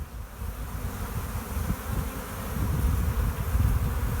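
Dense, steady buzzing from a honeybee swarm on a windy day, a low droning hum that swells slightly louder toward the end, with no voices.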